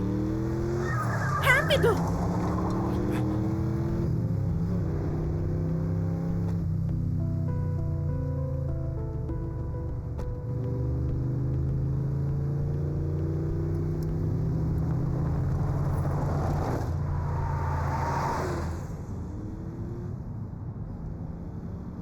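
A car's engine revs steadily as it drives off during a police chase scene, loud and continuous, with shouted voices over the start and a rising whine near the end.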